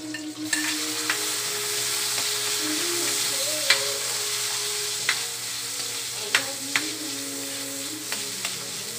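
Tomatoes fry in a pan for pochero, a steady soft sizzle running throughout, broken by several sharp clinks and scrapes of a utensil stirring against the pan.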